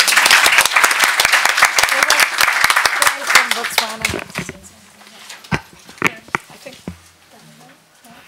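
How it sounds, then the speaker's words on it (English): Audience at a library conference pre-session gives a big round of applause, loud dense clapping for about four seconds that drops off sharply, leaving scattered lingering claps and faint room noise. "So I want a big round of applause for everyone who has worked so hard"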